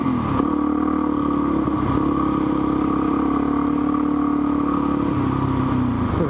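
A motorcycle rides along Harris Creek Road on a slippery surface, its steady engine drone loud and close throughout with wind rush and a slight dip in pitch near the end.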